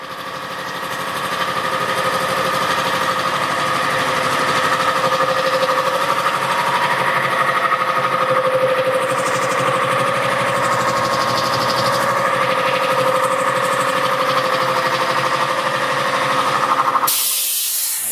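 A new air compressor runs and fills its tank, a steady loud mechanical drone with a constant pitched hum and hiss lasting many seconds before cutting off abruptly near the end.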